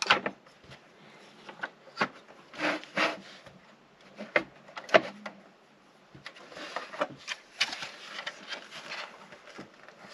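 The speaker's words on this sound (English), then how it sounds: "Alright, so now let's open all the doors." Doors of a gray Maisto Mustang GTD die-cast model car being opened one after another, giving small close plastic clicks and light handling taps scattered irregularly over quiet, with no voices.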